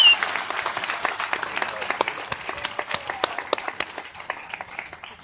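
Outdoor park audience at a war dog memorial dedication in McCoy Park, Fort Atkinson, applauding steadily, with dense scattered hand claps from a moderate-sized crowd and a few sharper nearby claps standing out.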